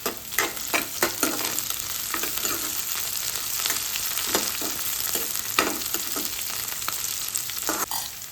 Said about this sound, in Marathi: आता याच्यात आपण कढीपत्ता घालूया।